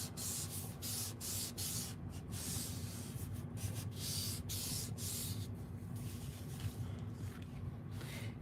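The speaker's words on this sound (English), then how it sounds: "I'm going to burnish it again" A die-cut card piece being burnished, heard as close, quiet, repeated rubbing strokes in an uneven rhythm over a faint background hum.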